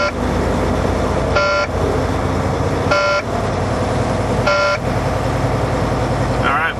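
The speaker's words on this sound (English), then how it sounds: "you can hear my audible buzzer now because the truck's running" A truck's audible warning buzzer sounds during an air brake test, giving three short, evenly spaced beeps about a second and a half apart over the steady, loud rumble of the running diesel engine.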